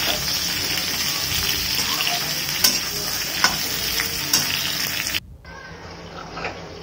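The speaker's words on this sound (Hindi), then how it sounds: "अगर परवल फ्राई हो रहा है तब तक मैं मसाला की तैयारी कर लेती हूँ।" Parwal (pointed gourd) frying in a pan, a constant loud hiss with a few sharp utensil clicks over it, close up, and it drops to a quieter hiss near the end.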